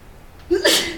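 A single person sneezes in a classroom, one short sharp burst rising out of quiet room tone.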